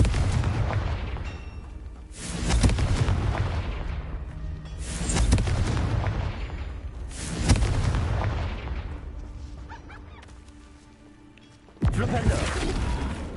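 Fiery spell blasts in Hogwarts Legacy on PS5: three or four loud booming explosions with long rumbling tails, each bursting out after a lull, the last one sharp and sudden near the end.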